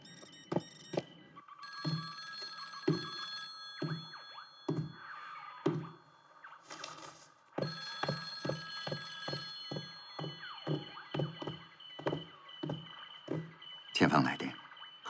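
A telephone in a wartime military headquarters rings repeatedly with an incoming call, its bell bursts recurring at a regular rhythm under and between people talking.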